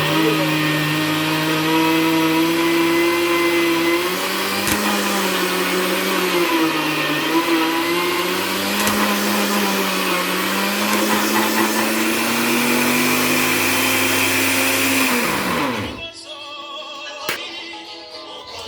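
A motorized grinder whirs steadily as it mills roasted sesame seeds (wangila) into paste, its loud droning tone wavering slightly in pitch before winding down abruptly near the end, leaving a few faint clicks.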